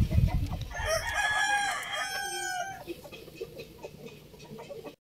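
A fighting rooster, a gamefowl, crows once close by and then clucks a few times more softly before the sound cuts off.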